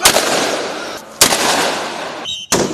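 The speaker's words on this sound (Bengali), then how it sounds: "পুলিশের 4টি বিশেষ ইউনিটের কেউ একাধারে গুলি করছে" Police firing on unarmed protesters: three sharp, loud gunshot cracks spaced about a second apart, each trailing into a dense, roaring wash of crowd and street noise.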